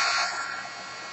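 A heat tool blows a steady, loud hiss as it reheats embossing powder on paper, holding full for half a second and then easing slightly, with no other sound.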